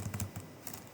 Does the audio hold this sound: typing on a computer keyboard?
yes